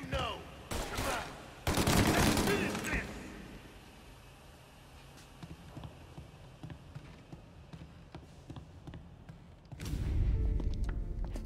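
Gunfire in the crime video game Mafia: a loud burst of shots near the start, sparse quieter cracks through the middle, and another heavy volley near the end, with faint background game noise.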